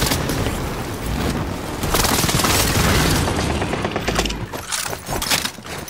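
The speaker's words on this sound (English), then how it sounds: "Allied precision airstrike." An allied precision airstrike in a shooter video game, heavy booms and rapid rattling bursts rolling on continuously with loud, rumbling impacts throughout, no voices over it.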